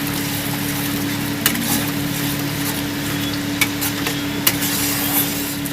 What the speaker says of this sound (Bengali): আমি এইভাবে পটলটাকে দিয়ে দিয়েছি কড়ার মধ্যে, দিয়ে আমি ভালো করে নেড়ে চেড়ে আপনাদেরকে দেখাবো